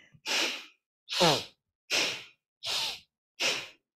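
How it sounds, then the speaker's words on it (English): Five deep breaths, each a long breathy rush lasting about half a second, evenly spaced at roughly one-second intervals, close and clear in a quiet yoga setting with no talking. "you're going to inhale deeply so you fill up your torso using your diaphragm. And then through the nose, exhale just as fully."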